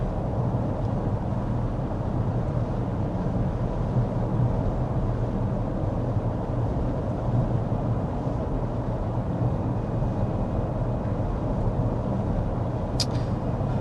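Steady broadband road and wind rumble inside a Cadillac LYRIQ electric car cruising at 55 mph in touring mode, a constant low hum with no voices and a brief faint tick near the end.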